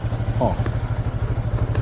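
A motorcycle engine rumbles low and steady on a Pattaya street, close by, with a brief clattering sound partway through.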